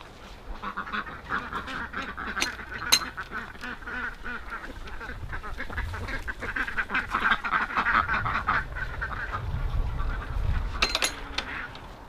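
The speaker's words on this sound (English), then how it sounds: "You frightened the ducks." Ducks quacking and honking in a forest garden, a busy cluster of calls running through the whole stretch, fairly close and lively, with faint rustling and no clear talk.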